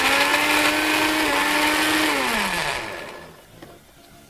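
Close, loud blender whirring through tomatoes with a little water, a high motor whine that dips in pitch as it works, then cuts off, leaving a quiet tail.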